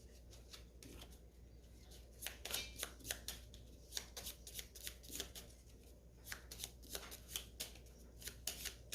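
Quiet, close, irregular flicks and riffles of cards being shuffled into a Gloomhaven board game deck, arriving in short clusters over a faint steady background hum with no talking.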